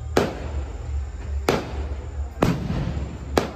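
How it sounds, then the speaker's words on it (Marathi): Firecrackers bursting during a Diwali-style birthday night celebration, four sharp loud bangs spaced about a second apart over a steady low rumble of background noise. "दिवाळी सारखे फटाके."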